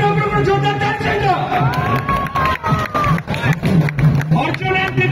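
Crowd at the Bali Yatra fair stage in Cuttack cheers and claps loudly, a dense outdoor roar with whistles and shouts, while an announcer's amplified voice rings over the noise.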